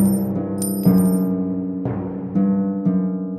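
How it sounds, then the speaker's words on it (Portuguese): Gold coins clink repeatedly in a cartoon as a giant counts them, with bright metallic chimes ringing out in several separate drops and rattles, loud and close with no voices. "o gigante começou a contar suas moedas de ouro"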